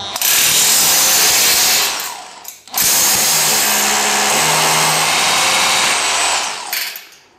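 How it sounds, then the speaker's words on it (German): An electric drill whines loudly and steadily for about two seconds, pauses briefly, then grinds on for several more seconds before stopping, close up, drilling into a wall for a wall plug. "So, wir bohren, setzen den Dübel. Ich mache es ja wie immer mit der Bohrmaschine"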